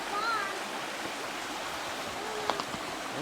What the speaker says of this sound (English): We're just following this creek